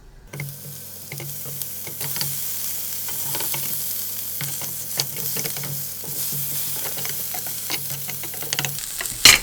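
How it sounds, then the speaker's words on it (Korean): Ham fries in a dry pan without added oil, giving a soft, steady sizzle broken by scattered light scrapes and clicks of the pan, fairly close and alone without talk. "바로 이어서 햄을 갖다가 구워줄 텐데, 따로 햄에서 기름이 나오기 때문에 뭐 기름을 두를 필요는 없습니다"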